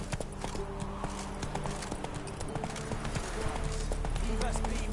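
Horse hooves clip-clop steadily in The Witcher 3, a fast rhythmic trot of sharp strikes over a busy game soundscape with music and a voice speaking.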